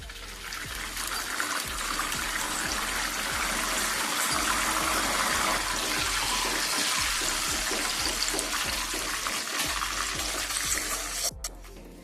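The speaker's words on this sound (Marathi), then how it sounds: "मिठाचं पाणी घालून घेऊया" Salted water pours steadily over grated raw banana slices, a continuous close rush and splash that lasts throughout and ends with a brief clatter.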